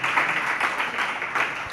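An audience at a religious sermon claps together, a dense, steady burst of applause filling the whole short stretch.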